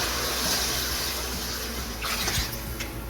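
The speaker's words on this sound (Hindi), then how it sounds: "अब इसमें ऐड करते हैं पानी।" Water pours steadily into a cooking pot for mutton nihari with a continuous rushing gush, close and fairly loud, ending with a few splashes.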